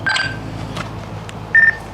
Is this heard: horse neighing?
no